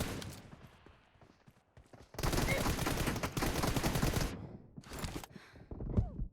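Gunfire in the mobile game PUBG Mobile: a dense burst of rapid shots lasting about two seconds, loud and close, with scattered single shots and brief talk around it.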